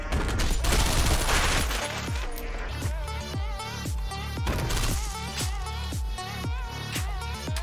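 Turret gunfire in the top-down shooter OTXO, a steady stream of rapid shots over a loud, driving music track with a pounding beat.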